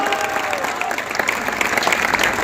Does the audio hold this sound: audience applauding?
yes